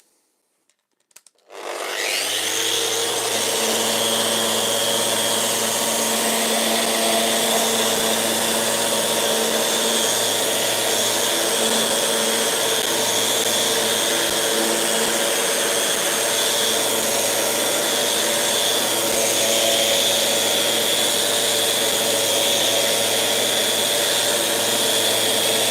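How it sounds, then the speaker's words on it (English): A power sander starts up and then runs steadily on a wooden workpiece for over twenty seconds, a loud, continuous whirring hum with a faint rubbing texture and no talk. "I'm going to make sure then that I'm moving my sander up and down the workpiece, making sure it's staying nice and flat"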